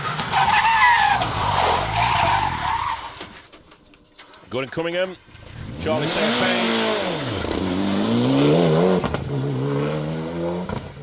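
Rally cars on a special stage at the Manx Rally, with engines revving and rising and falling under a commentator's voice, plus a sharp burst of skidding near the middle.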